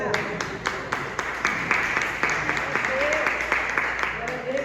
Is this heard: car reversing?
no